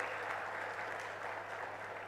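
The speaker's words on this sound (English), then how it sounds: "A loud applause for the accommodation committee under Mr. Iqbal" A crowd at an international academic conference applauds the accommodation committee, giving a continuous wash of clapping at moderate, even volume throughout, with no speech on top.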